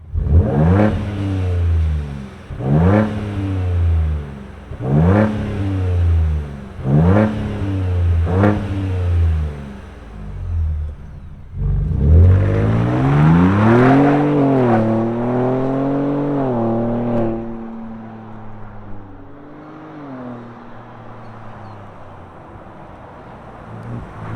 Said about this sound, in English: Let's fire this thing up and see our Ranger Raptor run.